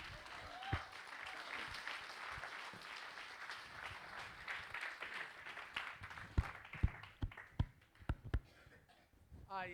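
A church congregation breaks into sustained applause and clapping that carries across the hall, quieter and more spread out at first, then turning into distinct sharp claps near the end, with voices calling out over it.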